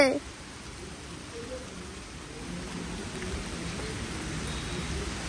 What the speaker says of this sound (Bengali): বৃষ্টি আরম্ভ হয়ে গেছে।